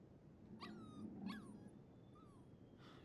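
Puppy in the video game Life is Strange 2 whimpering in a few high, wavering whines over a low background rumble, the cries spaced out and rising and falling in pitch, no speech.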